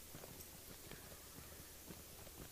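Faint, rhythmic clip-clop of horse hooves walking at an even pace in the video game Lord of the Rings Online, quiet and steady throughout, with no voices.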